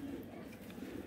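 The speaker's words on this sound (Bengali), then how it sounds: "দেখছেন কবুতর? এই এক পেয়ার কবুতর বেসিক পেয়ার দেখাইলাম।" Pigeons cooing softly and continuously in a loft, a low steady murmur with no distinct individual calls standing out.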